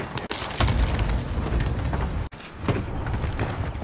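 Airstrike explosions in a Call of Duty Warzone Rebirth match, a continuous heavy rumbling boom with repeated blasts, loud and close, briefly cutting out twice.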